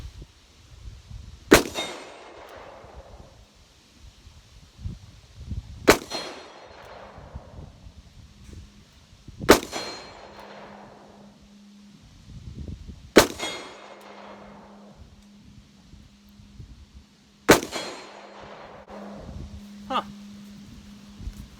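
Five loud, sharp revolver shots from a Taurus Judge firing Winchester hollow point rounds, spaced roughly four seconds apart, each with a short ringing decay, and a steady low hum in the background between shots.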